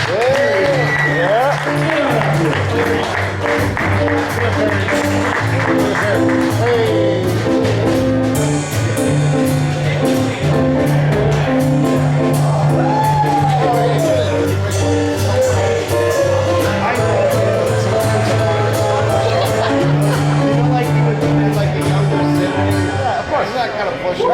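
Audience at the Rockin Comedy Show in the Corbin Bowl clapping steadily and loudly, with sustained applause and cheering under continuous music playing throughout.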